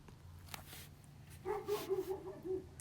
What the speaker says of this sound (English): I'm on my back porch, by the way, if you hear dogs barking in the background.